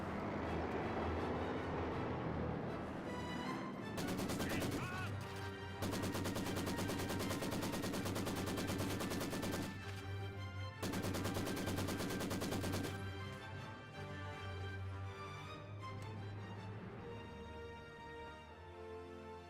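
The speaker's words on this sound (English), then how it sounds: "This gun does get a shot there in the short barrel Panzer IV." Gunfire from a short-barrel Panzer IV tank in the WWII strategy game Company of Heroes 2, dense rapid battle fire in two long loud bursts within a busy game soundscape, no talk.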